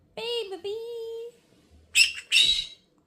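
A pet bird gives a clear, close whistled call with a bending pitch, followed after a short pause by two bright, raspy chirps. Each sound is loud against a quiet indoor background.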